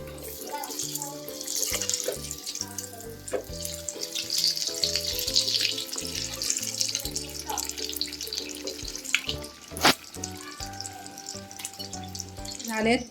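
Vada deep frying in hot oil, a dense bubbling sizzle filling the clip close by, with someone talking over it and background music, plus a brief clatter near the end.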